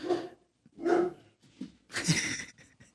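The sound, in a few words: dog barking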